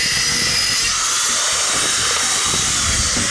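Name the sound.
power sanding a butcher block countertop piece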